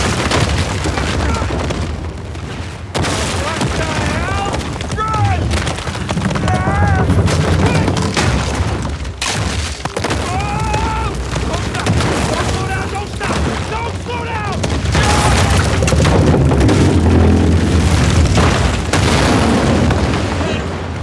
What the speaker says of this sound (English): structures that are being torn apart by enemy gunfire and rockets